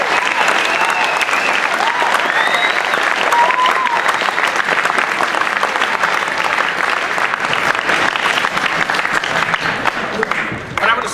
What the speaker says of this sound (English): Can we all give a major round of applause?